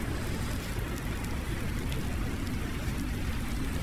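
Steady rain falling in Farming Simulator 19, a dense continuous hiss with no breaks, fairly loud and heard alone without talk.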